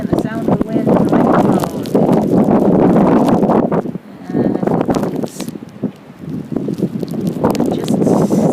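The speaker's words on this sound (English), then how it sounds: "And the sound of the wind blowing" Strong blizzard wind gusts and buffets the microphone atop a cupola at the start of the 2013 blizzard, a loud, continuous rushing roar with brief lulls.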